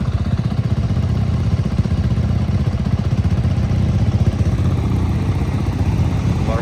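Honda CRF250FX and Yamaha YZ250FX dirt bikes with stock exhausts idle together while warming up, giving a close, steady, rapid putter that holds level the whole time.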